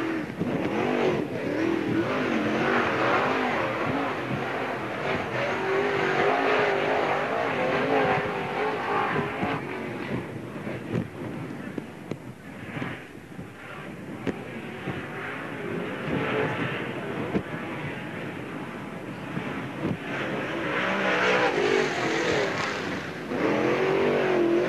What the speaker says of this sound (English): Out on the track now, car number 90, Tom Hurst.